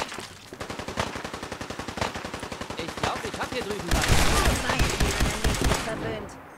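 Rapid automatic gunfire in Fallout 4, a dense run of sharp, evenly spaced shots that grows louder and heavier partway through, with an occasional voice under the shooting.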